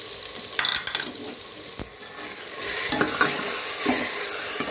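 Minced meat with garlic and ginger paste frying in a pan while qeema matar is cooked, with close sizzling, stirring and occasional scraping and clinks of utensils, steadier and louder in the second half.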